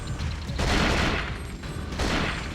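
Grenade blast and heavy gunfire in the survival-horror game Cold Fear: dense, sustained loud rattling with swelling bursts, no voices.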